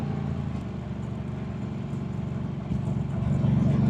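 A Harley-Davidson Sportster S motorcycle ridden in sport mode gives a steady throbbing engine rumble with a pulsing beat that swells slightly louder toward the end, heard close and continuous.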